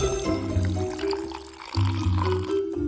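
Water pours steadily into a glass from close by, a continuous splashing trickle with a brief pause partway through, heard alone over a faint tonal background.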